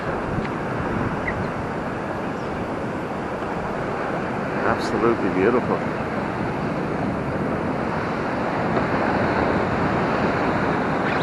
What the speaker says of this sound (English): the waves aren't quite as big today